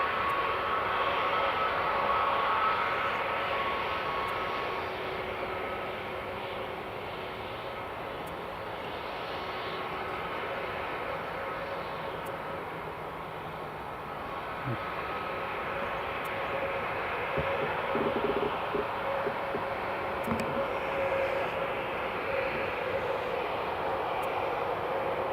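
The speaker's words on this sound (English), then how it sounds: "Air Canada holding short, ready for departure." An Air Canada airliner holds short for departure at Edinburgh Airport, its engines a steady, broad, distant roar that swells and eases slightly over time, with no talk.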